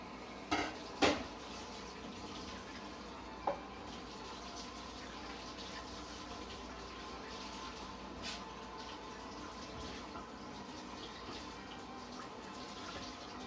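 Water runs steadily from a tap while a pan is handled, with a few sharp metallic knocks and clatters against the sink near the start.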